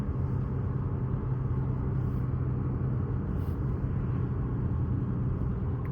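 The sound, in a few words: Porsche 944 engine revving during a downshift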